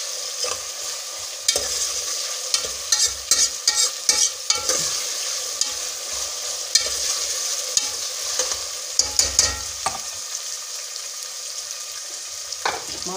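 Spices, tomatoes, chili, salt and turmeric fry in a pan for dal mash, giving a steady sizzle broken by frequent scraping and clattering stirs throughout, with no talking.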